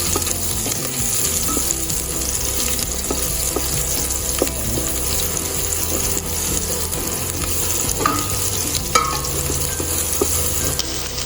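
Garlic sautés in a pan for beef kaldereta, a dense, steady close-up sizzle with occasional utensil clinks and stirring scrapes throughout, and no talking.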